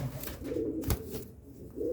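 Soft, low pigeon coos rolling on and off in a steady murmur, close by, with a brief louder thump partway through.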